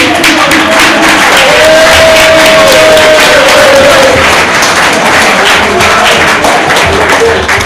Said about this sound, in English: Everyone give Michael a clap